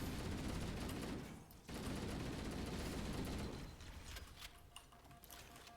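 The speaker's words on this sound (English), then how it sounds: "they're firing down range at me" Heavy enemy gunfire in Halo Anniversary, a thick sustained volley of shots that drops out briefly, resumes loudly, then thins to scattered bursts.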